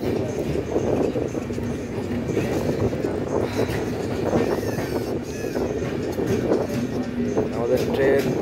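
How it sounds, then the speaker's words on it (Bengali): Panchagarh Express train rolling into Tangail railway station on line 1, a dense, steady rumble of wheels and carriages that stays loud throughout, with voices mixed in. "আমাদের ট্রেন টাঙ্গাইলের 1 নম্বর লাইনে প্রবেশ করলো"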